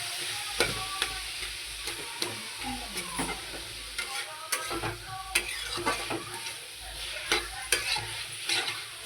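Chopped tomatoes fry in hot oil for Mumbai-style pav bhaji, a steady soft sizzle broken by repeated scraping and clacking strokes of a spoon stirring the pan.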